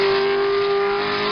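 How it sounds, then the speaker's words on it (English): Loud sustained engine roar of racing sports cars, Ferrari and Porsche prototypes such as the Ferrari 512S, at the start of the 1970 Sebring 12 Hours endurance race, a steady droning note with no break. "Mario Andretti in Ferrari number 19 leads the field as the race gets underway."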